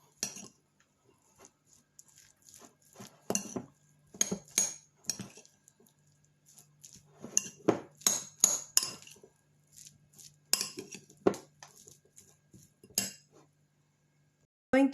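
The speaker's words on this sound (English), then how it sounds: "So mix the mayo." A metal utensil stirs mayo in a bowl, scattered sharp clinks and scrapes in irregular bursts with quiet pauses between, close and moderately soft.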